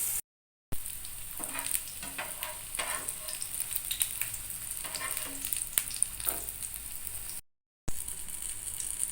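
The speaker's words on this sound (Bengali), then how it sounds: "তেল ভালো করে গরম হয়ে যাওয়ার পরে ধীরে ধীরে বেগুনগুলো সব তেলের মধ্যে দিয়ে দিতে হবে ভাজার জন্য" Eggplant slices fry in hot oil over a medium gas flame, giving a steady, dense crackling sizzle with scattered pops and occasional stirring clatter, close up and with no one speaking.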